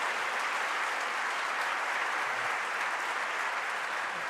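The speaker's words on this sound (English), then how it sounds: "let's all give a giant round of applause to the terrific staff" An audience at an evening talk in a spacious venue applauds with dense, steady clapping that holds at an even, moderate level from start to finish.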